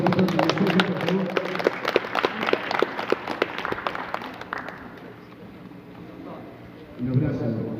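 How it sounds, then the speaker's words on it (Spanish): Audience applause for Doctor Paulino at a gathering of Aymara, Quechua and Uru nations: a crowd of hands claps in a dense, fairly near burst that thins out and fades, with talk over it. "es un aplauso para el doctor Paulino"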